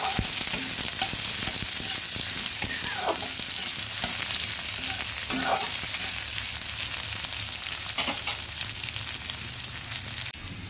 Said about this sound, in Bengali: এবার ভালোভাবে পেঁয়াজটা ভেজে নিচ্ছি।